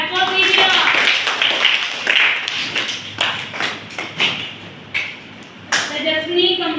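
Children clap in a classroom, bursts of scattered hand claps and taps mixed with thumps, shuffling and a voice, with people talking over the noise.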